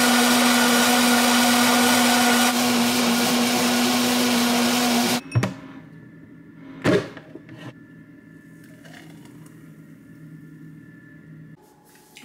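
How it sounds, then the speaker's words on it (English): A Nutribullet blender whirs loudly and steadily as it blends a smoothie of ice and peanut butter, then stops abruptly, followed by a couple of sharp clunks and a quiet room hum. "I have the Nutribullet. A blender, and it's so good."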